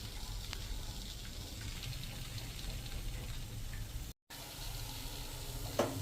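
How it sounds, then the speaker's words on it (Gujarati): Fafda strips of gram-flour dough frying in hot oil for Dussehra, giving a steady, moderate sizzle and crackle throughout with a short break and one brief louder bubbling burst near the end. "તો આ રીતે આપણે બધા ફાફડાને તળી લેશું."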